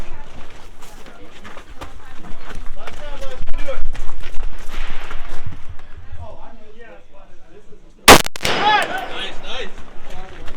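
Gunfire at a timed shooting match rings out amid loud, busy background noise, with a sharp crack near the end, while people talk and cheer throughout.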